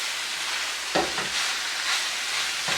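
Green beans stir-fry in a wok on high heat with a loud, steady sizzle and hiss, broken by a few scraping tosses of the beans, close and without talk.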